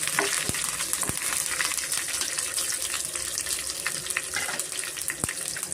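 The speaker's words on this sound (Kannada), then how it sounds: "ಬೆಳ್ಳುಳ್ಳಿ ಶುಂಠಿ ಮತ್ತು ಆನಿಯನ್ನು ಚೆನ್ನಾಗಿ ನಾವು ಫ್ರೈ ಮಾಡ್ಕೊಬೇಕಾಗುತ್ತೆ" Garlic, ginger and onion fry in hot oil with a dense, steady crackling sizzle, close and fairly loud, broken by a few sharp taps of a spoon against the pan.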